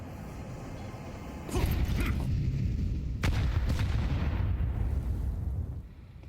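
Grenade blasts in the video game Counter-Strike 2 on the Overpass map, a sudden heavy boom followed by a second burst, rumbling and loud, then slowly fading.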